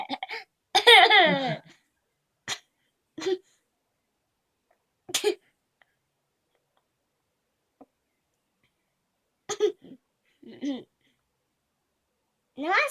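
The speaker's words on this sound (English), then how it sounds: "I hope those hiccups have stopped" Short, sharp hiccups erupt in isolated bursts with long silent gaps between them, near and fairly loud, mixed with a little laughter early on.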